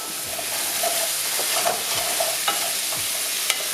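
Garlic stirred in a frying pan, a steady soft sizzle of oil with a few scraping, tapping utensil strokes against the pan, close and alone without talk.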